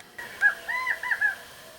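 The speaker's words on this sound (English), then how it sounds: "I know you can hear the familiar sound. The birds, the coyotes, the rain, all that stuff, through my CD player" Recorded nature sounds of birds played through a CD player: a short run of rising and falling hooting calls, about four or five notes close together, clear over a quiet background.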